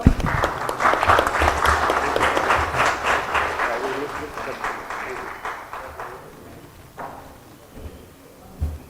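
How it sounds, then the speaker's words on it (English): Audience at an AI governance panel in Kolkata gives a loud burst of applause for a panelist. It tapers off gradually, with voices murmuring underneath and a thump near the end. "please have a big applause to Mr. Gaurav."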